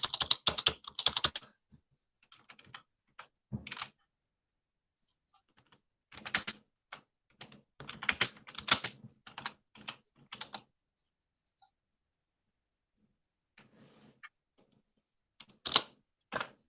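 Someone types on a computer keyboard in bursts of quick clicks separated by pauses, nearby and fairly quiet, with no talking over it.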